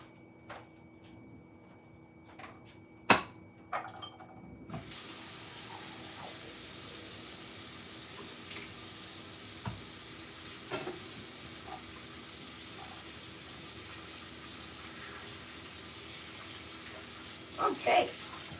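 Running tap water fills a sink as a rubber stamp is soaked and washed, a steady hiss of flowing water with occasional clunks and handling knocks, close and moderately loud.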